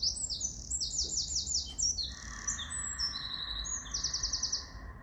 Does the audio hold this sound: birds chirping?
yes